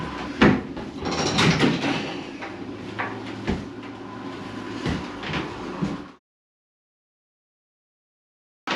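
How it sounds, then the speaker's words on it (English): Sliding shower screen doors are lifted out of their runners during a bathroom remodel, giving a series of close scraping rattles and sharp clunks before everything falls silent. "We should be able to lift these doors clean out the runners now."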